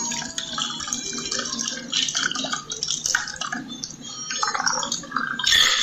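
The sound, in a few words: pouring cocktail into martini glass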